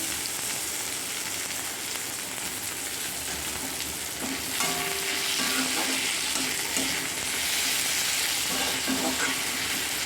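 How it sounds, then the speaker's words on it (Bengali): Onion and chopped tomato frying in a pan for an egg do pyaza curry, a steady close sizzle with stirring scrapes running throughout. "এবার এর মধ্যে আমি দেবো টমেটো কুচি।"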